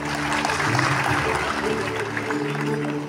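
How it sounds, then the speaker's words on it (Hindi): Sustained applause from a large audience at an agricultural event honouring farmers, steady and dense throughout, with a faint background voice mixed in. "इन सभी के लिए बहुत सारी तालियां बजाइए"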